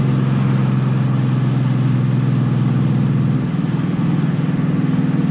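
A Ford Mustang GT runs hard at full throttle, its engine a loud, steady droning roar that holds strong from start to finish with a slight dip in tone partway through.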